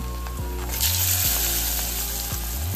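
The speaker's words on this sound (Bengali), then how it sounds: "ওই তেলের মধ্যে আলুগুলো একটু নেড়ে চেড়ে নেব" Potatoes are stirred in hot oil left over from frying fish, giving a steady bright sizzle with a few soft clatters of a utensil against the pan, close and with no talking.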